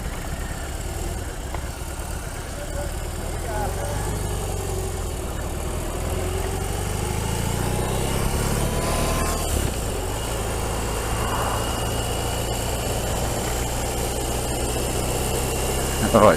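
A large motorcycle engine rumbles and idles nearby, its low drone rising in pitch as it is revved, steady and loud throughout.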